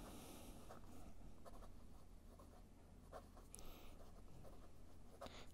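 A pen drawing on a piece of paper in a notebook, soft scratchy strokes in short bursts over a steady low hum, close and quiet with no talking.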